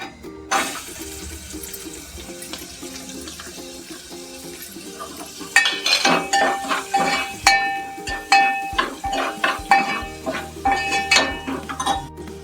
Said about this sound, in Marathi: आता हा कांदा घालते फोडणीला